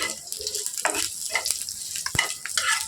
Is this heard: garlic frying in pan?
yes